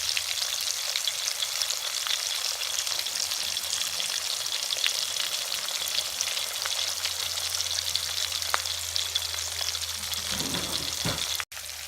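Salmon fillet frying in a pan, a steady close sizzle and crackle of hot oil running unbroken throughout with a low hum beneath, cutting off abruptly near the end.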